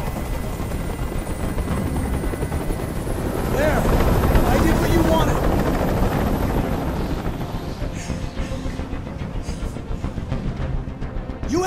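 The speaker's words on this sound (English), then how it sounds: "Tell that helicopter to get out of here." A helicopter's rotor in the video game Detroit: Become Human thrums and drones loudly and continuously, swelling in the middle, with voices faintly underneath.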